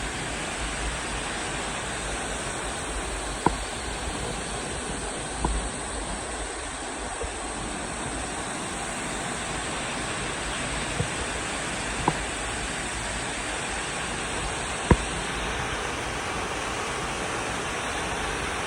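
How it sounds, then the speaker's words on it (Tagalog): Steady broadband roar of Maxwell Waterfalls crashing into a freshwater pool, a constant wash of falling water heard from nearby, with a few faint clicks and knocks on top and no voices. "papakita ko sa inyo ang 360 view ng Maxwell Waterfalls"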